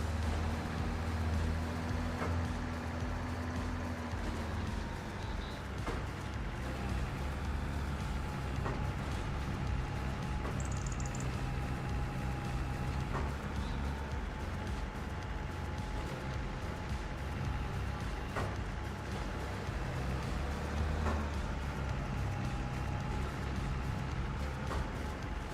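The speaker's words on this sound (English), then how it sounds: "The tractor sounds amazing." A tractor engine in Farming Simulator 25 drones with a steady low rumble throughout, moderately close and continuous, with faint periodic clicks and no voices.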